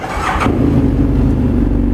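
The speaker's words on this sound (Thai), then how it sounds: "มาพร้อมกับท่อแต่งนะฮะ นี่ต้องบอกว่าเป็นทรงอะคาโปวิกครับมาฟังเสียงท่อคันนี้หน่อย" A 2016 BMW F800GS motorcycle with an Akrapovic-style aftermarket exhaust revs sharply once and then settles into a steady, loud, close idle rumble.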